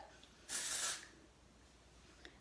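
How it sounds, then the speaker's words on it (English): One short hiss from an aerosol hairspray can sprayed down the hair, close and soft, lasting about half a second in a quiet room. "You can spray kind of down the hair shaft"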